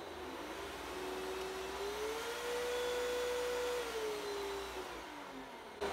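Hoover Discovery DS22G vacuum cleaner running on its carpet turbo setting, a loud steady whirring roar whose motor pitch rises, holds, then falls again, close up with no talking.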